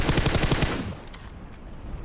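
Rapid automatic gunfire in PUBG Mobile, loud bursts of rattling shots for the first second then cutting off into quieter game ambience with faint distant pops.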